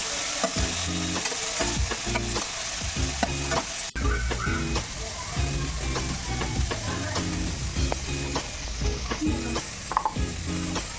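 Boiled vegetables being stirred and fried in a pan for Maggi noodles, a steady loud sizzle with repeated scraping strokes of a spatula throughout, no talking.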